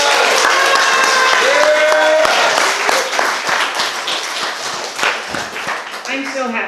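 An audience at a live poetry show breaks into loud applause for a poet. The clapping is dense and sustained, then gradually thins, with crowd voices mixed in.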